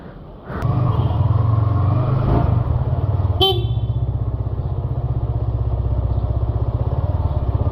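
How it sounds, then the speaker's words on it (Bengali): A Yamaha motorcycle starts up at a busy fuel pump and settles into a loud, close, rhythmic idle putter, with a brief sharp metallic click partway through. "এটা আমার অফিসের স্যারের বাইক।"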